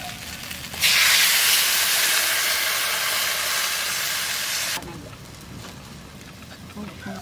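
Water is poured onto spice masala frying with dried red chilli paste, bursting into a loud, steady sizzling hiss that lasts several seconds before dropping back to a quieter bubbling simmer.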